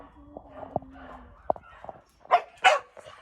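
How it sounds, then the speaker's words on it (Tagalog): A few sharp, scattered dog barks, some distant and two louder ones near the end, with brief faint voices in between. "Ayun, may mga aso."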